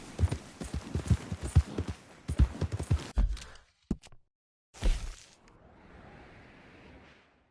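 Horse hooves clip-clopping in a PS4 video game, a brisk run of close, loud hoofbeats that stops abruptly, followed by a few isolated knocks and a faint fading rustle.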